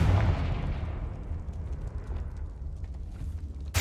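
The Confringo fire spell in Hogwarts Legacy bursts with a heavy, booming blast that rolls off into a fading rumble, followed by a sharp hit at the very end.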